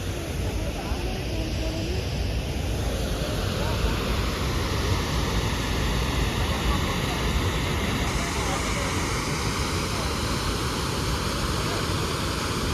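Chitrakote waterfall near Jagdalpur roars as a continuous, dense wash of falling water, loud and steady, with a voice faintly audible beneath the rush.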